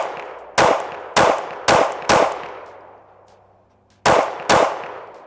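A Shadow Systems CR920P pistol fires six sharp, loud shots, four in quick succession and then two more after a pause, each with a ringing decay; a voice briefly says a word between shots.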